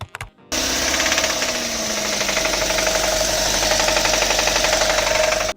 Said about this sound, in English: a deep knocking sound under load.